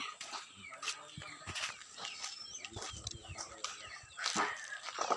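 A small, lively dog close by, heard in an outdoor rural setting where coconuts are husked, with short yelps and whimpers among birdsong and background activity.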